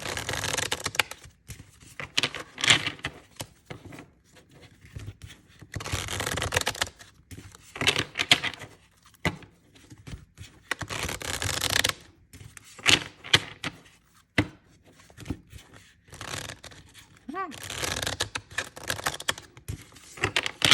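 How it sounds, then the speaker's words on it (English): Tarot cards are shuffled in repeated rapid riffles and clattering bursts, close and crisp, with short pauses between rounds. "I'm going to give these a shuffle and see what card energy we need for today."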